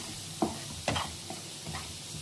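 Paneer curry stirred in a pan: a few soft scrapes and taps of a spoon come at a slow, uneven pace over a faint steady sizzle, close up.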